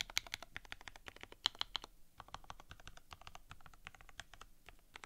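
Rapid, crisp typing on a Stellar65 mechanical keyboard, a dense run of close, clicky keystrokes with a brief pause near the middle, no voices.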